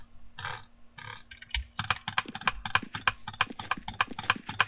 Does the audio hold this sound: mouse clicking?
yes